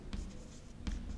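A pen or chalk stroke on a board during an accounting lesson: two brief, dry scratches about three-quarters of a second apart, quiet and close, with no voices.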